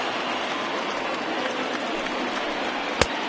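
A large baseball stadium crowd of over 39,000 stands and roars in a dense, steady wash of cheering, with one sharp clap or thud near the end.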